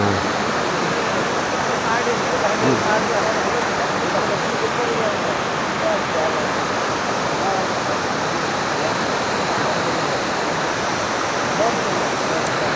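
Steady broadband rush of a waterfall beside an off-road trail near Hebri, continuous and fairly loud throughout, with faint voices in the background.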